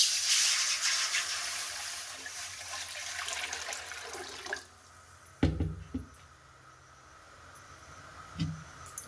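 A mug of water is poured into a pot to make mango preserve, giving a steady close splashing pour for several seconds, then quiet with a few sharp clunks of the pot.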